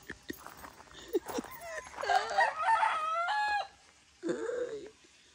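A rooster crows at dawn around five in the morning, one long clear crow followed by a shorter second call, fairly close and otherwise quiet.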